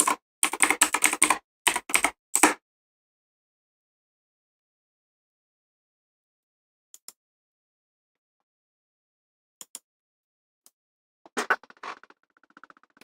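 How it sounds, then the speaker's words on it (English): Rapid bursts of clattering computer keyboard presses open the clip, followed by long silence and a few scattered, quieter taps and clicks near the end. "Sorry about the keyboard"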